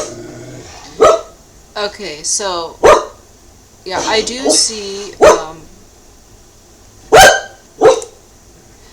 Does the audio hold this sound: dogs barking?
yes